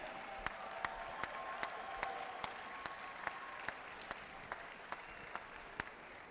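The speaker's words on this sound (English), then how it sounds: "Let's give a huge round of applause to all the teams that were competing here today" Applause from the crowd at an FTC robotics state championship, a broad steady clatter of clapping throughout with sharp periodic thumps and a faint tone underneath, heard from a distance in a large hall.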